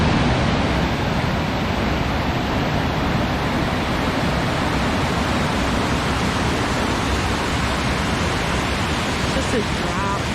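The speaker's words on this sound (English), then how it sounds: "you hear the waterfall." Broad, unbroken rush of the Kaaterskill Falls waterfall, loud and close, holding steady throughout without voices rising above it.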